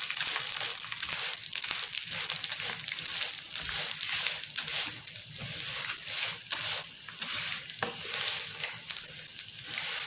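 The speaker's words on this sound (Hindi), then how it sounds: "सबसे पहले हम डाल देते हैं सेवियां को फ्राई कर देते हैं हल्का सा।" Vermicelli fries lightly in a pan for Shahi Sawian, giving a steady close sizzle with repeated scraping stir strokes throughout and no talking.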